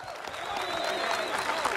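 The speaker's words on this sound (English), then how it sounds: "I want y'all to clap right now." Audience at a stand-up comedy show breaking into applause, a dense wash of clapping that builds slightly and holds, with the comedian's voice faintly over it.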